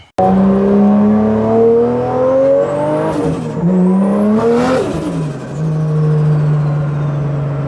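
A lowered drift car driving on a road, its engine droning loud and close, revving up and shifting with rising and falling pitch before settling into a steady hum. No one speaks.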